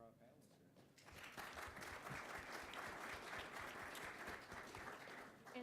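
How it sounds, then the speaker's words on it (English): Audience applause for the panelists at the close of a government procurement roundtable session, starting after a quiet first second and holding as steady, dense clapping from a room full of people until the end. "give a round of applause to our panelists here"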